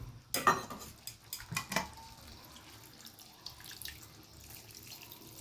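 Hot water splashes into a pot of potatoes and pumpkin in a home kitchen, with a couple of short pouring bursts and clinks of utensils, followed by quieter faint stirring and handling sounds.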